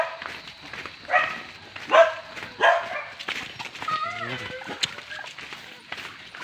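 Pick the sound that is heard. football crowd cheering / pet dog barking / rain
pet dog barking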